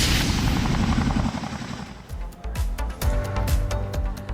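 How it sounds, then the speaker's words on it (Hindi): A Chinook helicopter passes overhead ferrying a heavy generator set to a cloudburst-hit area, its rotors making a loud continuous thudding roar with sharper rhythmic beats in the later seconds. "चिनूक हेलीकॉप्टर भारी भरकम जनरेटर सेट को लेकर उस तरफ जाता हुआ"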